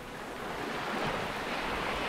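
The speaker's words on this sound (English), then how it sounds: "Check this out. Our own personal beach." Waves washing onto a beach at Haven holiday park in Berwick-upon-Tweed, a steady broad surf roar with some wind noise and no talking.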